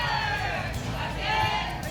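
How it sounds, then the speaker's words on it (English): A crowd cheers at Tracy's King Crab Shack in Juneau, Alaska, a steady, loud wash of many voices that continues without a break. "all she had to do is say her name and people start cheering"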